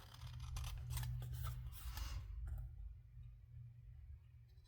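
Paper being trimmed with scissors to make a louvered pocket: a quick run of close crisp snips over the first two seconds, then quieter rustling against a low background hum.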